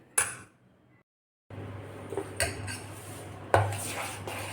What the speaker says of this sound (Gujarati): થોડીક આપણે ખાંડ નાખી છે અને સરસ એવું મિક્સ કરી લઈએ